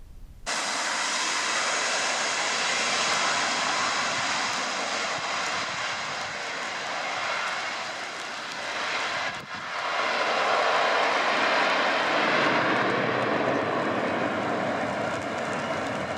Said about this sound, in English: a real airplane landing in a crosswind